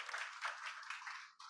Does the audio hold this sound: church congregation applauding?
yes